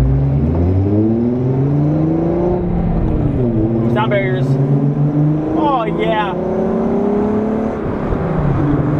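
A 12-valve VR6 engine and exhaust droning from inside the cruising car, a steady low hum that rises and falls with the revs while a person talks briefly.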